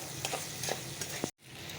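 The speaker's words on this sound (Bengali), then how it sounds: "আজকে আমাদের রান্না হচ্ছে ছোলার তরকারি" Chickpea curry cooks in a pan, with a steady close sizzle and frying hiss broken by soft stirring scrapes, then a sudden brief gap before the sizzling resumes.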